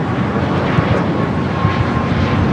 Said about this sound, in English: It's Alaska Airlines 1326 taking off to Los Cabos on the MAX 9.